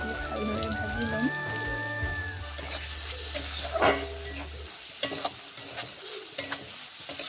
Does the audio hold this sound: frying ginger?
yes